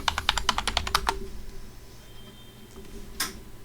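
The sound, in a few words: typing a password on a computer keyboard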